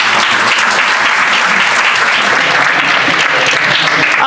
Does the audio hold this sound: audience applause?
yes